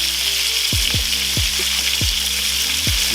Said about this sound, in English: I like to take a good chunk of butter and throw it in the pan.